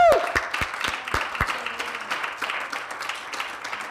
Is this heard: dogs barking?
no